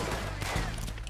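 Gunfire in Red Dead Redemption 2, a brief burst of close shots in a shootout, loud and dense for about a second.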